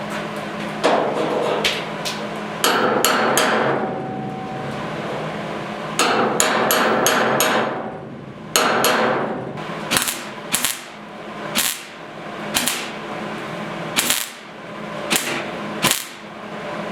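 Sharp metallic hammer blows driving a chisel against the side of a 1972 Ford 4x4 short box truck bed, first in quick bursts and then as single spaced strikes, loud and close.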